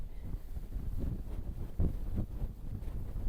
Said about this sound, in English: I don't know if you can hear me, but it's a little bit windy.